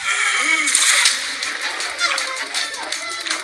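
Water splashes and sloshes out in a loud burst under excited speech, then settles into smaller splashes.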